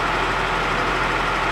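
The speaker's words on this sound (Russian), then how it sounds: "Теперь урожай собирает машина." A potato harvester's engine runs steadily in the field, a constant broadband mechanical drone with a low rumble, heard alone at moderate loudness.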